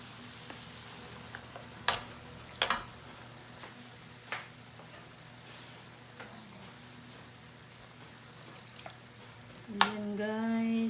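Coconut milk poured into a pan of simmering binagoongan with meat and green and bird's-eye chilies, quiet sizzling and bubbling with a few sharp utensil clinks, then a brief louder pour and bubbling surge near the end.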